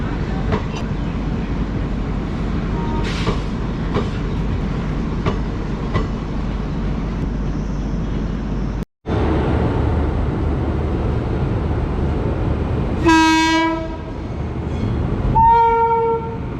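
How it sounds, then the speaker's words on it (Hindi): The Hisar Amritsar Express rumbles past and overtakes a halted train, its steady loud clatter filling the scene before two sharp horn blasts ring out close by near the end. "सामने अभी जो हिसार अमृतसर एक्सप्रेस है वो हमारी ट्रेन को ओवरटेक करके यहाँ से जा रही है।"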